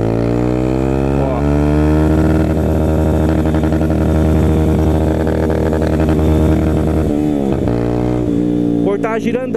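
A motorcycle engine revs hard in gear while riding, loud and close, its pitch climbing and holding at high revs, then dropping with brief cutoffs near the end.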